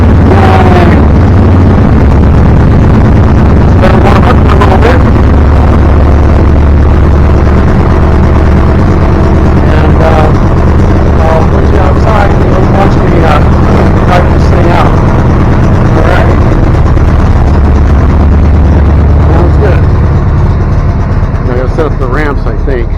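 The engine of a Chinese VC13C mini excavator starts with the choke on and runs as a loud, constant low rumble close by; someone talks over it.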